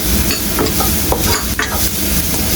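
Finely chopped garlic and onion sautéing in a pan make a loud, dense sizzle close up, with a few stirring scrapes over a short stretch.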